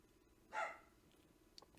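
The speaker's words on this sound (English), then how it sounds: "I'm sorry if you can hear my dog barking" A single faint, muffled dog bark from a dog outside, brief and distant, with quiet room tone around it.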